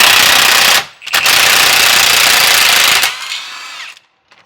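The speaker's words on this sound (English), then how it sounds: "Now that we got those cracked loose by hand, go at them with the impact gun." An impact gun loosening bolts on a Dodge Ram front axle: two loud, close bursts of rapid hammering, the first short and the second lasting about two seconds, then a brief whirring spin-down.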